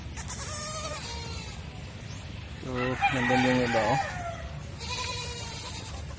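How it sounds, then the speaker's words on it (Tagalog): Goats on a farm on a rainy day bleat loudly in several wavering calls, one strong nearby cry in the middle with others before and after, while a person speaks briefly. "Grabe ang ingay ng mga kambing."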